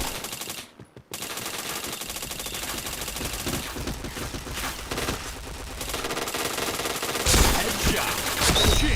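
Sustained automatic gunfire from the online shooter Point Blank, continuous loud rattling bursts after a short pause near the start, with a brief heavier blast toward the end.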